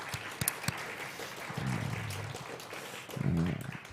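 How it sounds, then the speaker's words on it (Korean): Congregation applause at a youth worship service, a dense patter of clapping throughout, with a few sharp claps early and a voice speaking over it midway and near the end. "먼저 하나님께 영광의 박수를 올렸으면 좋겠습니다."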